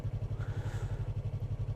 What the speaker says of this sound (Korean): 엔진 브레이킹을 걸으면서 할 수 있는 거죠.